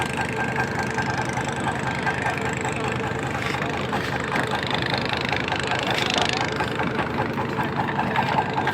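A trawler boat engine idles nearby, a steady, loud mechanical chugging drone that runs unbroken throughout, with other boats around.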